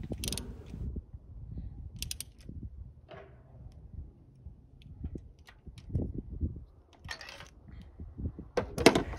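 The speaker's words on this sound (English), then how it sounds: "make sure that you don't over tighten with your socket wrench" A socket wrench ratcheting while a spark plug is tightened on a 2011-13 Kia Sorento or 2010-13 Hyundai Santa Fe 3.5L V6, giving faint, intermittent clicks and mechanical creaks close by.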